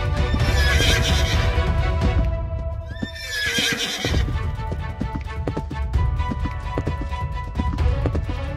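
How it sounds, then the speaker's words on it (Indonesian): A horse being ridden in a horror castle escape video game, with repeated loud neighs and whinnies over rapid clip-clopping hooves, all close and continuous. "ini pertama kalinya aku mengendarai kuda, guys"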